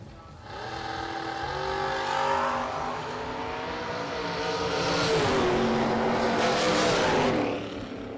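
A 1968 Camaro race car with a rear wing at a drag race, its engine roaring loud and steady throughout with rising and shifting harmonic tones as it revs and pulls away.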